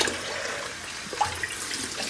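Knee sleeves soaking in hot water in a sink give a steady wash of running, splashing water with faint sloshing and a few small drips on top.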